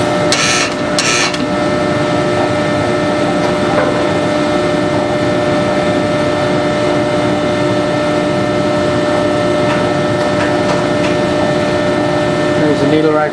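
A Compac Specialties 307ATT baler drives its needle rack in, a steady loud mechanical drone with a constant whine and a couple of brief rattling bursts near the start.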